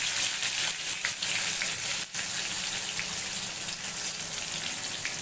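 Curry leaves and chutney sizzle in hot oil for a fasting-style farali misal, a steady broadband hiss that holds at an even level throughout with one brief dip, with no talking.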